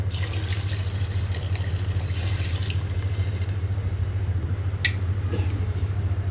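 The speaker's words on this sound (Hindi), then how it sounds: "चलें जी, अब हम पानी शामिल कर देते हैं।" Water pours steadily into a pressure cooker of chicken shorba, a continuous splashing hiss over a low droning hum, with a few small clinks.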